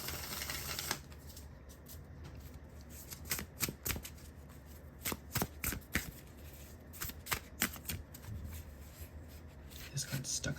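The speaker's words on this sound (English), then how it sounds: "let's shuffle the cards and see what comes out for you" Tarot cards are shuffled by hand in quick, crisp riffling bursts with brief pauses between them, close and fairly quiet, with no talking during the shuffle.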